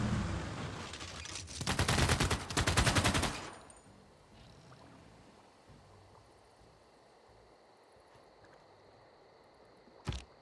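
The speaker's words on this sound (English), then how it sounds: "they're attacking the machine gun army" Machine-gun army attack in Civilization VI: dense, loud bursts of automatic gunfire for about three seconds, then quiet background ambience with a sharp click near the end.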